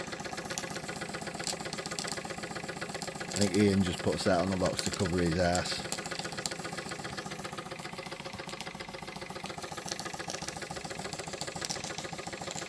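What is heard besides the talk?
Wilesco D24 model steam engine running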